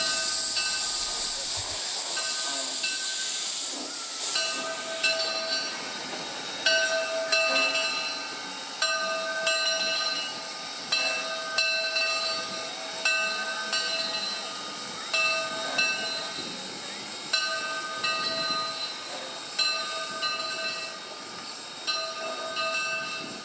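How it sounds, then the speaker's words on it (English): Narrow-gauge steam locomotive Granite Rock number 10 runs on the railroad, its rhythmic chuffing exhaust beats repeating steadily after an opening hiss of steam, loud and close. "they were running Granite Rock number 10, which apparently they had just recently rebuilt"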